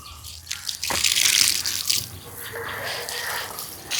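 Water pumped by a motor pours onto a freshly shaped garden bed prepared for okra, a steady close splashing flow that swells and holds throughout.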